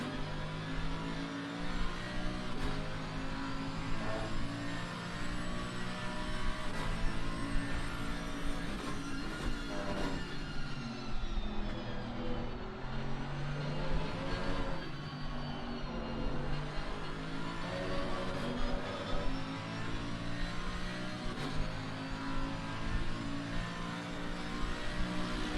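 A race car engine in a sim racing endurance game at Imola drones and revs continuously, pitch rising and falling through gear changes and a chicane, loud and steady with no talk.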